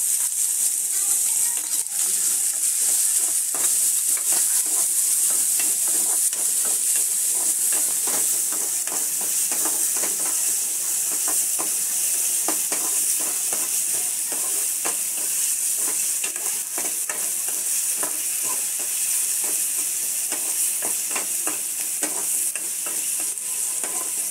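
Chopped onion sizzles steadily in a hot pan with a broad, constant hiss, broken by irregular scrapes and clicks from stirring throughout.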